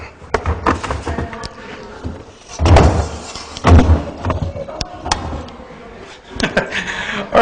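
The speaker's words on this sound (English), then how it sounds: "I think a door needs to be opened." Household door handled by a lecturer mid-session, with several thumps and knocks of the door opening and bumping, scattered sharp hits over quiet room tone and some brief voice sounds.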